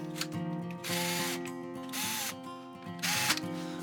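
A power screwdriver drives screws into a motorcycle cover in a workshop, several short whirring bursts with brief pauses between, close and fairly loud.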